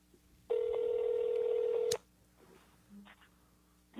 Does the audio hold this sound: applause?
no